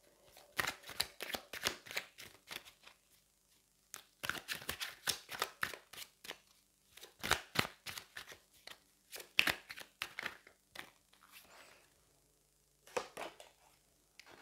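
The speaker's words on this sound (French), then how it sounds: "on va aller prendre une dernière carte et puis je prendrai les cartes oracles" Tarot and oracle cards being drawn and handled, with soft clicks, slaps and shuffling flicks coming in irregular clusters, close but quiet, with short pauses between handfuls.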